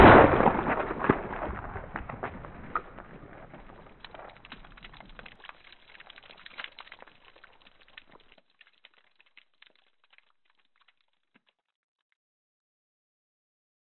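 .338 Lapua rounds from a Barrett MRAD sniper rifle hitting a target, a loud close crack at the start followed by a long scatter of fading clicks and rattles that thin out to silence.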